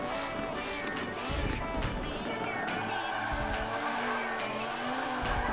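A race car skidding and sliding in Forza 7, with a continuous engine roar, tire squeal and scraping slide noise that carry through the clip.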